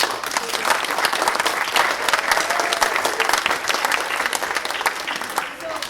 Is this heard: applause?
yes